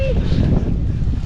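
Strong seaside wind buffets the microphone at Olbia, Sardinia, a loud continuous low rumble with no talk.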